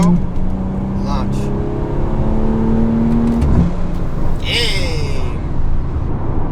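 A car with a B58 engine launches on a highway using rolling anti-lag, a loud steady engine drone that rises in pitch as it pulls away, with hissing bursts near the end and a voice talking over it.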